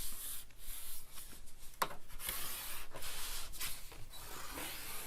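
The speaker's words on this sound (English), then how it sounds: "We're going to burnish it." A tool rubs back and forth along a scored paper fold to burnish it, giving soft, scratchy strokes in an uneven rhythm that are close and fairly quiet.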